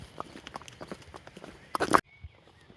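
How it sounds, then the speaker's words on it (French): A horse on a mountain trail, its hooves clip-clopping in a series of light, uneven steps, followed by a brief louder scuffle and then near silence. "Et ben oui, il y a un cheval"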